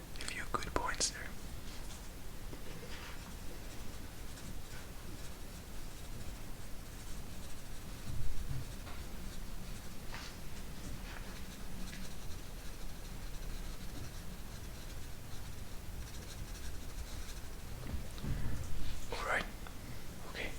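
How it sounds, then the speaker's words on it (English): Quiet close-up pen or pencil strokes on paper, soft scratchy writing that runs steadily for about twenty seconds beneath intimate whispering in a calm ASMR setting. "let me just write it down very fast"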